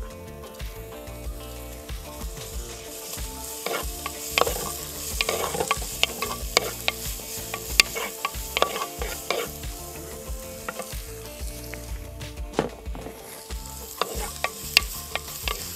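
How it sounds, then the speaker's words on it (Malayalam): Onions sautéing in oil in a pan for a Kerala-style side dish, with a continuous sizzle and frequent scraping stirs of a spoon, close and moderately loud. "ഉള്ളി ഇപ്പം എത്രയും വഴറ്റിയല്ലോ"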